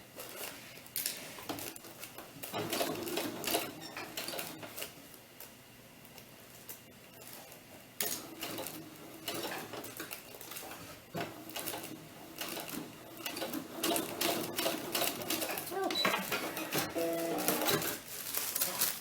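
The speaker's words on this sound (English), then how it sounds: "I wish I knew why my machine was skipping stitches." A home sewing machine that is skipping stitches runs in a gathering stitch on a small doll T-shirt, producing a close, steady rattling whir in uneven bursts with short pauses, with no voices over the stitching.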